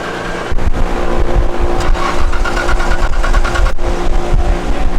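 A Nissan R32 GT-R with HKS twin turbos cranks on a dyno, a loud, close, continuous mechanical churning with a rhythmic pulsing drone and no voices.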